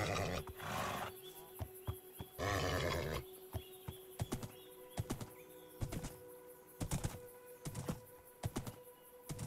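A Minecraft horse neighs twice in a modded Jurassic Minecraft world, two loud whinnies in the first few seconds, followed by scattered game thumps and clicks.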